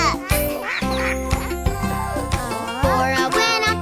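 A duck quacks repeatedly in a lively series of loud, nasal calls, layered over a bright children's-song backing with other sounds mixed in.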